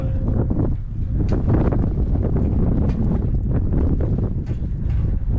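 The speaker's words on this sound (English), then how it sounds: "It is a very windy day" Strong wind buffets the microphone in a continuous low roar at the Flight 93 Memorial, gusting unevenly throughout with no voices.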